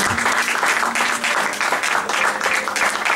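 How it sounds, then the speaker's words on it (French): A church congregation applauds loudly for the glory of God, a dense, continuous roar of many hands clapping at full volume throughout, with a few cheers mixed in. "Est-ce qu'on peut acclamer très fort pour la gloire de Dieu?"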